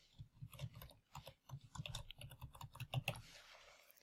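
Rapid keystrokes on a computer keyboard as a group name is entered, an irregular run of close, crisp clicks continuing for several seconds with no voices.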